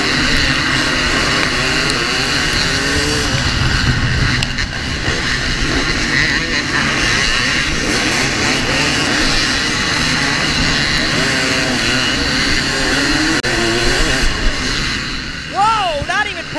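Many dirt bikes at a GNCC cross-country race, the Tomahawk round in 2015, roar continuously and loudly throughout, with engines revving and rising in pitch near the end while voices talk over the din.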